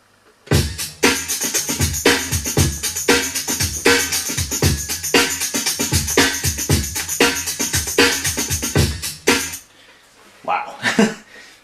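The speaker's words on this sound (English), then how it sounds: "the mixture of a good fat kick and racy tambourine work and this fantastic sharp metallic snare" A drum break plays loud and punchy, a fat kick with racy tambourine and a sharp metallic snare in a fast, busy pattern, ending with a brief pause and a few more hits.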